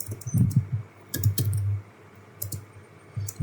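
Computer keystrokes clatter in quick bursts as commands go into a network device's command line, with short pauses between clusters of close clicking keys.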